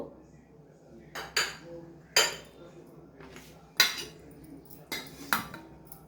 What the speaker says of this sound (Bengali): আগে ছিলে নিব নিয়ে কেটে নিব টমেটোটাও কেটে নিব